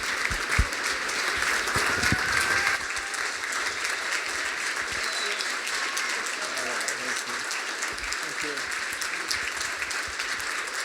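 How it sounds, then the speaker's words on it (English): An audience of employees at a government department address gives sustained applause, a busy, even wash of many hands clapping that stays fairly loud throughout, with a few louder claps near the start. "Let's give them a big round of applause."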